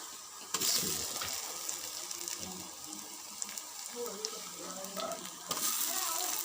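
Chopped tomatoes go into browned onion masala for an egg curry, giving a soft, steady sizzle and bubbling in the pan with occasional stirring scrapes, quiet and continuous with faint speech.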